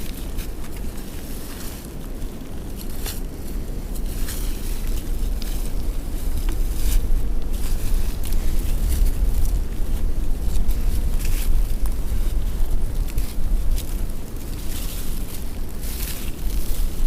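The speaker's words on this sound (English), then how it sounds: "now that we have a tailwind, now the wind is helping us" Strong gusty wind on the Appalachian Trail during a high wind advisory, a loud, continuous rumbling roar with buffeting on the microphone and faint footsteps throughout.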